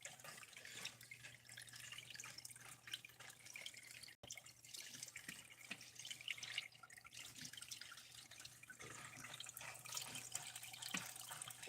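Water is poured from a container onto plants and soil, a faint, steady trickle and splash with soft drips, heard close and alone against a low background hum.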